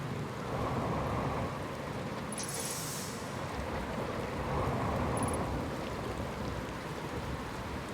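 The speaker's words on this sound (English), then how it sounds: "You can even hear the storms whipping around over there," Storms whipping around in the Outer Wilds video game, a steady roar of wind and rain-like noise with rumbling low end, constant and distant-sounding throughout, with faint high chirps.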